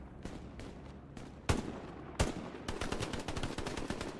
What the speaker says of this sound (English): Gonzalez kills Ivan with the grease gun.